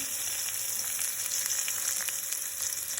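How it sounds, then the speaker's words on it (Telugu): Cumin, onion and garlic frying in hot sesame oil in a pan, a close, steady bright hiss of sizzling with small crackles and no voices. "ఆయిల్ వేడెక్కాక కొంచెం జీరా, ఆనియన్, గార్లిక్, వెల్లుల్లి"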